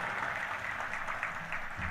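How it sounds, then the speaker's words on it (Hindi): Audience applause at a religious gathering in Bikaner, Rajasthan, a steady wash of many hands clapping at a moderate distance, sustained and even throughout without talk. "तीनों भाइयों को जोरदार ताली बजा के धन्यवाद दो"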